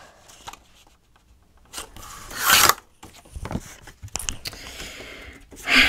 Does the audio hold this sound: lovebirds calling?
no